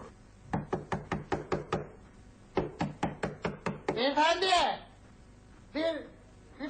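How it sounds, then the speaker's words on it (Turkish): Repeated knocking on a door, two quick bursts of sharp raps in steady rhythm, loud and close, followed by voices talking. "Allah kapı çalıyor."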